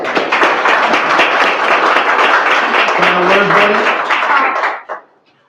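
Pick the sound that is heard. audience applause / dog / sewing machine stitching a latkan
audience applause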